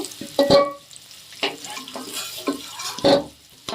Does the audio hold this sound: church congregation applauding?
no